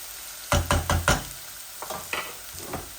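Garlic and onion fry in a pan on a home stove, with four sharp spatula knocks close by, then softer stirring scrapes over a low sizzle.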